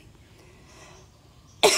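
A single short, sharp throat clearing bursts out at the very end after near silence.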